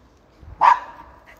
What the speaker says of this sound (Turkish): Havlama yavrum. Havlama kızım.